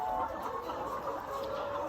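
Laying hens in a low-cost shed with a plastic and geotextile roof and no fans cluck continuously nearby, a busy overlapping chatter of many birds with a faint steady hum beneath.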